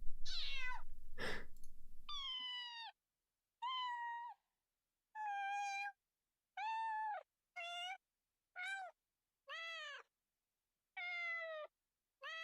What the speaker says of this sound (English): That's probably a cat, but listen to this one.